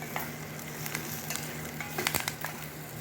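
Aubergine sautéing in a pan with sliced garlic, onion and curry leaves for a Sri Lankan eggplant moju, a steady soft sizzle with scattered crackles and stirring scrapes, fairly quiet and close, no talking.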